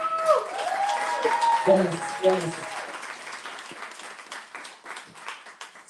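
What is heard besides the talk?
audience applause for awardees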